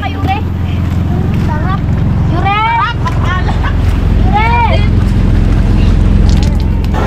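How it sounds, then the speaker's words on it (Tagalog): A large motor boat travels on open water near El Nido, Palawan, its steady loud engine rumble and wind noise running throughout while people talk and call out over it. "Sasakyan natin bangka, malaki."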